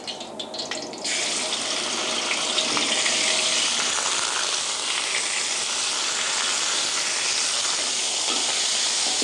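Chicken dropped into hot vegetable oil sets off a loud, steady sizzle that continues unbroken, hissing close by.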